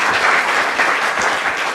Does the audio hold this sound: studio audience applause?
yes